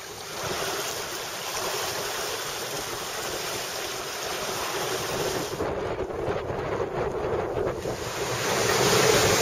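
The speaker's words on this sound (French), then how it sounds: "Le vent là est bien monté, on a une bonne 20 nœuds, 25 nœuds maintenant de travers." Strong wind of 20 to 25 knots blowing across the sea beside a sailboat under an overcast sky, a loud steady roar of gusts and rushing waves that swells further near the end, with no voices.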